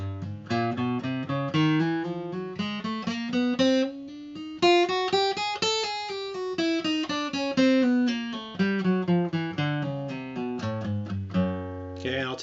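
A guitarist plays a warm-up exercise that slurs notes on one string and picks the next, sending a steady run of clean notes climbing and falling across the neck, close and even with no talking over it.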